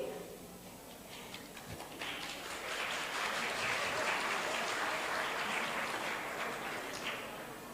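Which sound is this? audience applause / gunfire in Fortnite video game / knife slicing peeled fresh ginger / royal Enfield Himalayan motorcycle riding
audience applause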